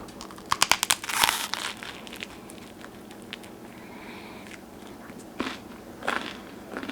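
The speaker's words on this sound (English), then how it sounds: "I'm going to put some butter on this and take a bite and enjoy this bread." Crisp bites into buttered homemade bread with a crunchy crust, a burst of sharp crackling crunches up close followed by quieter chewing and a few later crunches.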